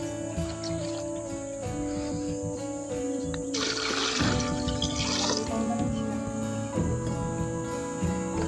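Water from a strong rural spring flows and drips into a basin or container with a soft, continuous trickle. The splash grows fuller partway through, with faint voices somewhere nearby.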